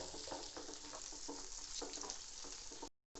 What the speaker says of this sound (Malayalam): അതിലേക്ക് നമ്മൾ സവാള ഒന്ന് വഴറ്റിയെടുക്കാം.